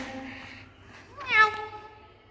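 A kitten gives one close, high, rising meow over a soft background hum.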